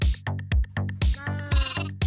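Baby sheep in the Minecraft video game bleat in a quick run of about eight short, loud, clean calls, evenly spaced and alone.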